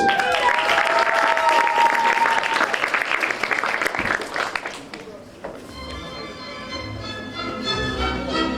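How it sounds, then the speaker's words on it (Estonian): A school stage performance audience bursts into loud, dense applause for about five seconds, which then fades as music begins playing. "Aplaus!"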